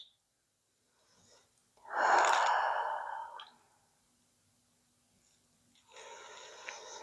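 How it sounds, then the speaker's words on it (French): A forceful, breathy exhale lasting over a second during a floor exercise, then quiet, then a softer, steady inhale, both close and without talk. "Je souffle, j'engage tout. Et j'inspire, je relâche."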